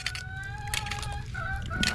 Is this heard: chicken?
yes